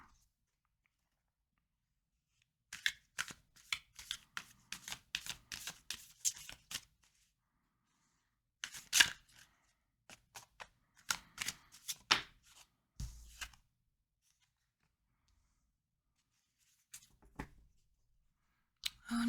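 A deck of tarot cards shuffled by hand in bursts of crisp riffling and flicking, close and fairly loud, separated by silent pauses.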